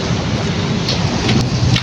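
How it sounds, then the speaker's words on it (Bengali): Heavy rain falls at dusk in Malaysia, a dense, steady hiss with faint low rumbling underneath and a few brief sharper gusts, close and loud throughout. "এই যে প্রচুর বৃষ্টি।"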